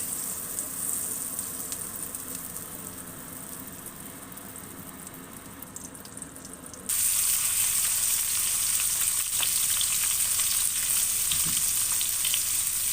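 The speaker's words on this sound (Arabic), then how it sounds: "حطيت الزبده بتاعتي، قطعه الزبده بتاعتي تسيح" Butter melting in a hot pan, frying with a steady sizzle that turns suddenly louder and brighter about halfway through and then holds as a dense, continuous hiss with no voices.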